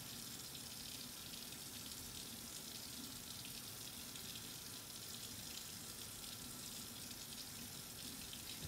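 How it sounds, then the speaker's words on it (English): A tap runs in a steady, faint stream of water while hands are rinsed from fingertips to elbows, continuous and unbroken throughout. "rinse it off from fingertips to the elbows, letting the water from your fingertips"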